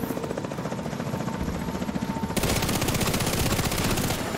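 Helicopter in The Division 2 thrumming steadily with a rapid rotor beat, mixed with bursts of automatic gunfire that grow denser and louder partway through.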